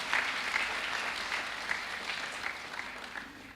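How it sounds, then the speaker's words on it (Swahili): A church congregation at a Sunday service claps for a guest coming forward: steady, dense applause from many hands, even and sustained throughout. "Mpe makofi mazuri akija hapa."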